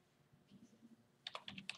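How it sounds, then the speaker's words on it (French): An IP address being typed on a computer keyboard at a computer setup, a quick run of soft close keystrokes in the last half second after a quiet low hum. "sur ma machine physique, je vais taper l'adresse"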